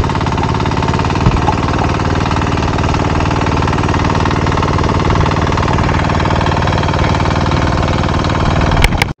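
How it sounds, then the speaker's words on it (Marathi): A modern tractor runs in a rice paddy with a continuous loud, close mechanical chug and rattle, steady throughout, ending with a couple of brief clicks and no talking. "आणि या नवीन आधुनिक तंत्रज्ञान ट्रॅक्टर हा"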